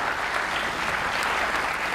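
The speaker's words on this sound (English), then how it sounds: "please give him a clap" An audience claps steadily for a guest at an international innovation and entrepreneurship board event, a dense, even burst of applause filling the room with no voices over it.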